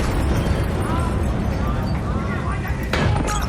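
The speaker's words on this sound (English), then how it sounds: "we have multiple explosions across the facility" Dense, loud booming and rumbling from explosions across a facility in the video game Call of Duty Black Ops 3, a continuous roar with a sharper burst near the end, with voices talking over it.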